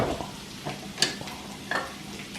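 Onions cooking in a hot pan for a Spanish breakfast, giving a faint sizzle broken by a few sharp scrapes and clinks of a big spoon, with no voices.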